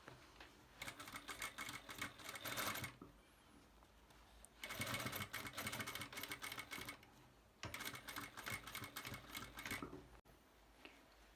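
A sewing machine stitches summer dress fabric along a line marked by interfacing, running in three rapid whirring bursts separated by short pauses.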